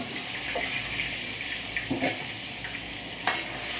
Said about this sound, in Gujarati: અંદર ડુંગળી લસણ ટીચેલી હતી એ નાખી દીધી સરસ મજાની. અંદર તેલમાં સતળાવા.